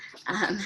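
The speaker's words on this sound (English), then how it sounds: "I apologize for my dog in the background." A dog vocalizing briefly in the background of a room, a short faint whine or bark under the voice of a person talking.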